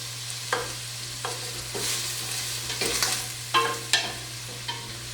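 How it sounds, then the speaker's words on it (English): Celeriac being stirred in butter in a pot for soup, with a steady low sizzle under repeated scraping strokes of a spoon, about eight distinct stirs spread evenly and close by, with a constant low hum in the background. "Stir so everything's coated with butter."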